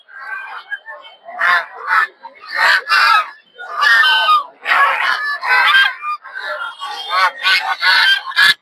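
Geese and ducks honk and squawk loudly in repeated bursts close by at a crowded village poultry market, the calls overlapping with little pause between them.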